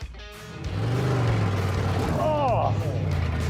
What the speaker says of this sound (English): wheel hop. Horrible.